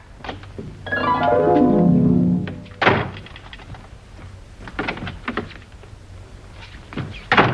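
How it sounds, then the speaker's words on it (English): Radio-drama door effect in an old 1941 mystery comedy: a long rising creak of a door swinging open, then a solid thunk as it shuts by itself, followed by quieter knocks and shuffles in a room. "Doors just don't open and shut themselves."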